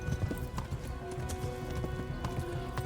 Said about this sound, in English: he's just whizzing past on a horse and just yelling